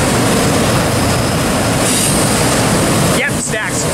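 A domestic double-stack container freight train rolls past close by with a loud, steady rumble and rattling wheel noise that continues throughout.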